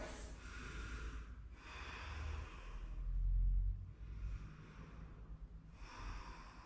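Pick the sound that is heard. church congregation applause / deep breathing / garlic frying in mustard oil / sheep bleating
deep breathing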